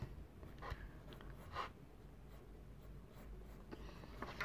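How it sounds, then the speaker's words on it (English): A pencil sketches a rough box on paper, giving quiet scratchy strokes close to the mic, with a few sharper scrapes as lines are drawn. "I go ahead and draw a box, just a rough box with pencil,"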